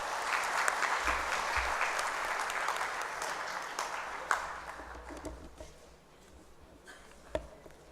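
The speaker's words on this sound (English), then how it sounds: "A big round of applause." Audience applause at an event in Shamoli, Dhaka, launching cashless Indian visa services, heard as a steady wash of clapping that thins out toward the end, with a few sharper claps standing out.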